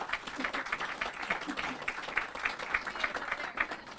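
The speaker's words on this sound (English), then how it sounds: "Let's give them a round of applause today." Crowd at an outdoor community habitat celebration in a park applauds, a moderate, fairly distant patter of many hands with slight rise and fall, and faint voices mixed in.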